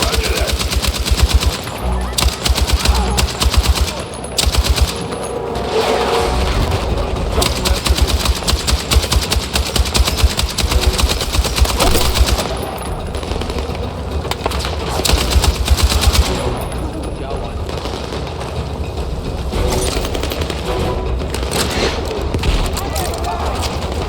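Sustained machine gun fire in the video game Battlefield 6, dense rapid bursts that rattle almost continuously for over twenty seconds, loud and close, mixed with explosions, game sound and voices.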